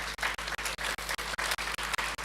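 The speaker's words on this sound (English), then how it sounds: "I would like us to give them a round of applause" An audience gives a sustained round of applause at a business presentation event, with dense, steady clapping that fills the room with brief dips in intensity.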